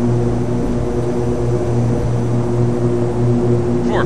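Twin engines of a Cessna 310 at full throttle in a flight simulator, a loud steady droning roar with a constant propeller hum, heard without any talking.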